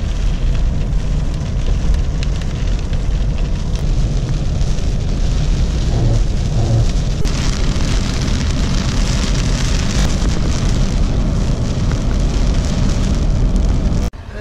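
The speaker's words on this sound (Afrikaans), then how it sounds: "Lekker reën by so 50 km van Salfinia af." Heavy rain drums steadily on a vehicle about 50 km from Salfinia in the Tankwa Karoo, a dense, loud wash that stays unbroken throughout with no clear thunder standing out.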